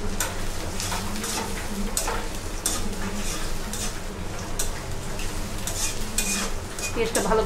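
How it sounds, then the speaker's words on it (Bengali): Chopped onion and green chilli sizzle and fry in a pan for a rohu fish and potato curry, with steady close crackling and intermittent scraping and stirring clinks throughout. "পেঁয়াজটা ভালো করে ভেজে নিব।"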